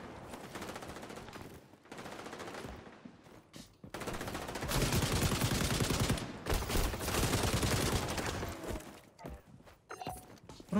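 M60 light machine gun bursts in the shooter game XDefiant, sustained rapid automatic gunfire with short pauses between bursts, loud and dense amid other battle noise.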